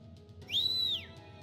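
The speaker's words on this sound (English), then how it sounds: "the other delinquents in track pants made a loud whistle" Loud whistle from a group of delinquents in track pants in the game Tiny Bunny: a single sharp, high whistle that rises, holds and then slides down, standing out clearly over a quiet low hum.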